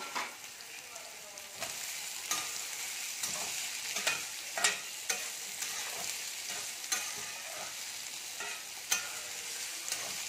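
Finely chopped onion frying in a pan for sooji upma, a bright continuous hiss of oil punctuated by periodic spatula scrapes and taps every second or so, near and steady.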